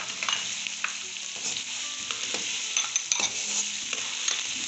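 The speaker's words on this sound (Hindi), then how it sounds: "हल्का हल्का इनको फ्राई करना बस।" Sliced potatoes and mixed vegetables for pulao fry gently in an oil-coated pan, a soft, steady sizzle punctuated by light scraping and stirring clicks from a spoon.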